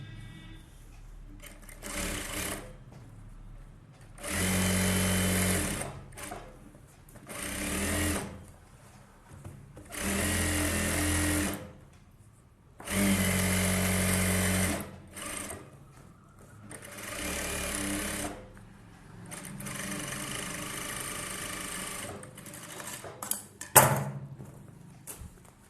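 A sewing machine stitches an Aari-work blouse in several bursts of fast, rattling mechanical whirring, each lasting a few seconds and separated by quiet pauses with small handling clicks.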